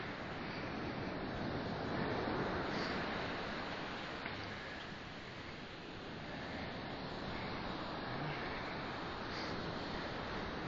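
Surf rolls in on a snowy beach, a steady wash of breaking waves heard from a distance, faint and continuous with some wind, no talking.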